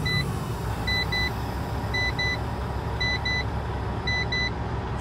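A truck's dashboard gauge beeps in evenly spaced double pips, five pairs in a steady rhythm, clear and close over the low hum of an idling engine.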